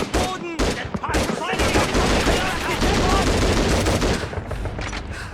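Dense bursts of automatic gunfire fill a battle in the PS2 game Call of Duty 3, with rapid overlapping shots and a brief gap near the start.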